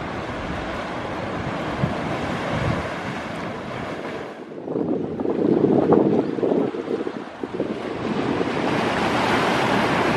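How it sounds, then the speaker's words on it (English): Small ocean waves break and wash off the Hawaii shore where paddle boarders surf, a continuous roar and hiss with heavy wind rumbling across the microphone, swelling midway, with no voices. "the waves are pretty small, but they do surf on them"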